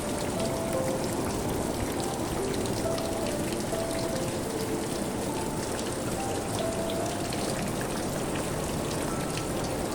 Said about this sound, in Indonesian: ini pasti air hujan yang merembes sehingga sampai di tempat ini